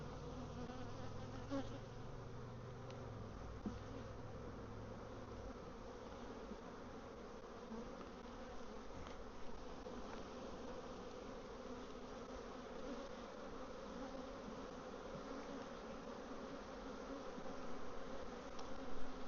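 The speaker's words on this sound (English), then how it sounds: "A lot of bees." Honeybees buzzing around a beehive, a dense, continuous hum that is faint and steady throughout, with no voices over it.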